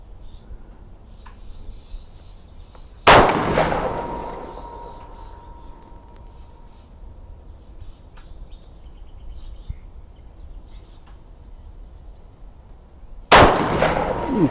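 Two sharp, loud rifle shots from an Armalite AR-180 at an outdoor range, about ten seconds apart, each cracking then ringing off into the distance over a faint insect-like background.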